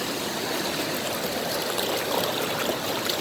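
River water on the East Fork of the San Gabriel rushing past in a strong, steady flow, a loud continuous hiss and gurgle close by with no voices.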